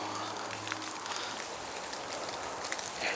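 Steady, dense rainfall hissing continuously, with scattered drops pattering on a nearby surface.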